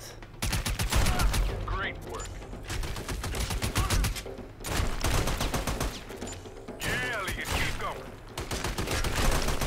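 Heavy automatic gunfire in the video game Army of Two, Afghanistan level, loud and continuous in long rattling bursts broken by short gaps, with voices talking underneath.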